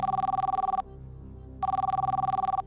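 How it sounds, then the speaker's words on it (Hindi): Electronic telephone ring on the Kaun Banega Crorepati game show as a phone-a-friend call is placed: two loud, warbling trilling bursts with a short silent gap between them. "फोन लगाया जाए"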